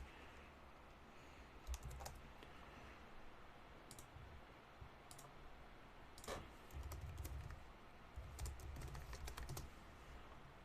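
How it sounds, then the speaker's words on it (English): Rapid, furious typing on a computer keyboard during a quiet afternoon at home, with dense bursts of clicky keystrokes that pause briefly and then resume, close and fairly loud over a soft room hiss. "You can hear me furiously typing."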